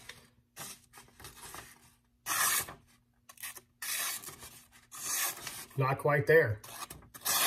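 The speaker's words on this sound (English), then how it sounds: "So we're going to go back to stropping. See how rough that is? You hear that shh sound?" A hunting broadhead is stropped against a sheet of thin paper, making several close, rough shh-like rubbing strokes in separate bursts, with someone talking between and over them.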